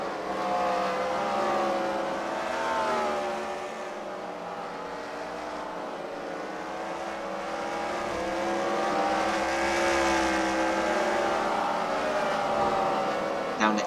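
Race cars run a dirt-track heat at an indoor arena, their engines droning steadily and fairly loud throughout, with rising and falling revs as they circle and jostle for the lead.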